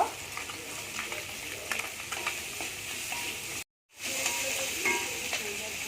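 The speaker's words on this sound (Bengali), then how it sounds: "আমি এই কড়াইতে শাক চচ্চড়ি করবো তাই প্রথমে আলু বেগুন ভেজে নেব" Potato and eggplant pieces sizzle in mustard oil with panch phoron in a kadai wok, a steady close crackle with occasional stirring clinks, broken by a brief moment of silence before the frying resumes.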